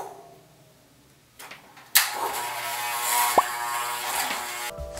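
Oversized 3D-printed electric hair clippers click on after a quiet stretch and run with a steady close mechanical buzz and rattle, punctuated by one sharp whine before cutting off.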